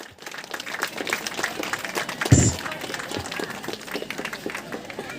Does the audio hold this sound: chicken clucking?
no